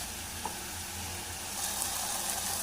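Tomato, mint and coconut frying in a pan give a steady, dense hiss of sizzling that swells slightly louder partway through, with no talking.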